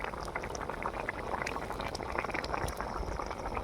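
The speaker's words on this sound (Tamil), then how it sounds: "வெந்துட்டு போகிற மீன்." Fish boiling in a pot over an outdoor cooking fire, a dense, steady bubbling and seething that stays even and close throughout, with no voices over it.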